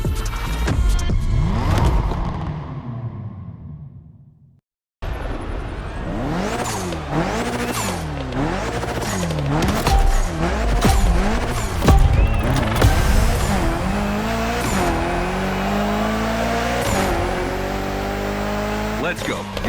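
In a video game, a Mitsubishi Evo 9 gymkhana car revs hard, its engine climbing and dropping through repeated sweeps while tires squeal, loud and close, after a brief pause.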